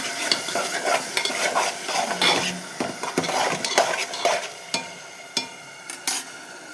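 Onions and curry leaves frying in a pan, a crackling sizzle broken by repeated clinks and scrapes of a spoon stirring against the metal, close by.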